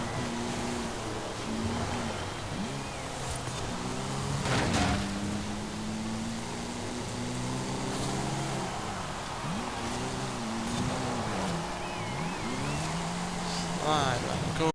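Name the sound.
race car driving in video game Forza Horizon 5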